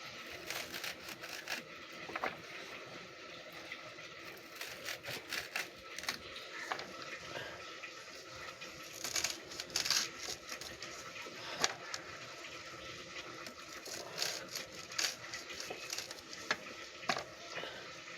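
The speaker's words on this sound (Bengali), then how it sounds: "এবার আমি শাকগুলোকে কুচিয়ে নেব।" A knife chops washed red amaranth greens with quiet, quick, irregular taps and crisp cuts, repeating in short bursts at close range.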